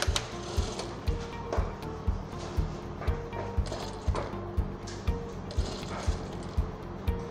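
A Jack A4 industrial sewing machine runs at close range with an even, rapid mechanical ticking of needle strokes under a continuous motor whir, and the rhythm holds steady throughout.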